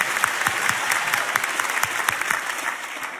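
Church congregation claps during a sermon, producing loud, dense applause with distinct sharp claps standing out from the steady crowd clatter.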